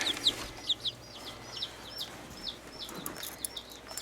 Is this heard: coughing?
no